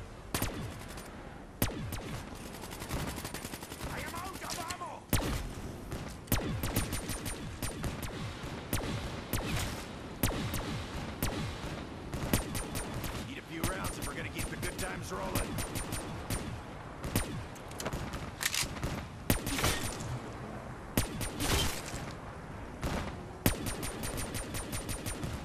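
Dense, nearly unbroken gunfire from the Black Ops 3 Zombies video game, with rapid automatic bursts and booming shots layered over a busy, loud game soundscape throughout.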